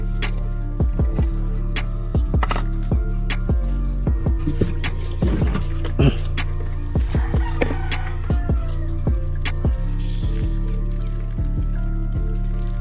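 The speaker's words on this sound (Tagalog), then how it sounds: "ito yung pang priming niya. So kailangan mo lang siyang lagyan ng tubig dito." Water is poured into the priming port of a water pump on a poultry farm, heard as close wet sloshing and irregular drips and squishes under a steady low hum.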